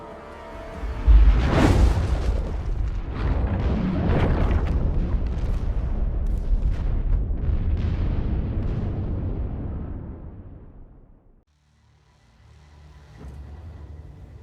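Weapons fire and explosions in a space battle from The Expanse, a dense roar of booming blasts and rumbling impacts that builds, sustains loudly for about ten seconds, then cuts out before a lower rumble returns.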